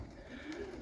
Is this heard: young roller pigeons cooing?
yes